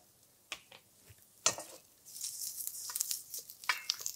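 Onion and garlic dropped into hot oil in a pan, a few sharp knocks then a rising, crackling sizzle that continues close and moderately loud.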